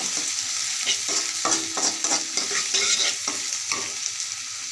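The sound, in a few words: garlic frying in a pan until browned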